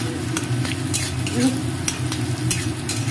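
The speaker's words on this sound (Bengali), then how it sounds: "সেই তেলটাকে আমলকিতে জাল দিয়ে দিই" Amla (Indian gooseberry) simmering in hot oil: a continuous, fairly loud frying sizzle with crackles and occasional stirring scrapes close by, no talk.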